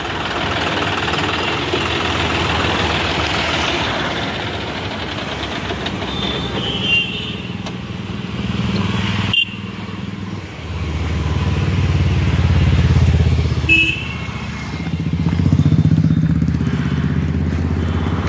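An American 4x4 tractor with an inline pump engine drives along, its engine knocking and rumbling loudly and close by, with the pitch and load shifting as it speeds up and slows down.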